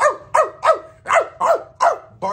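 A dog barks loudly and close by in a regular run of seven sharp barks, each separated by a short pause, with no other sound around them.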